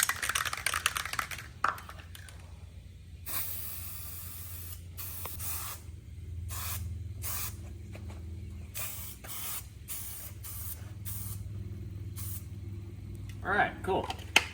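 Guide coat sprays onto a Nissan 240SX body panel in a series of short, sharp aerosol bursts, one longer pass among many quick puffs, with a voice talking briefly at the start and end.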